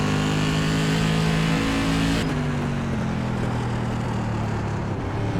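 SK Modified race car engines at Martinsville Speedway in the iRacing video game, a steady loud engine drone that drops in pitch partway through as the car lifts off, with no voices.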